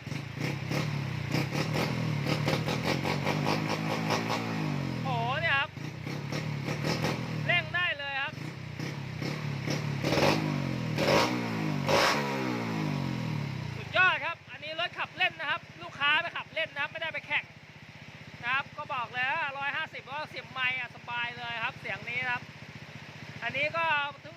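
Tuned 53-type motorcycle engine built for durable street riding, revving loudly up close during a workshop test, with repeated throttle blips and rising sweeps, then choppier bursts of revving toward the end.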